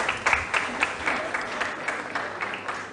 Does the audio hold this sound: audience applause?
yes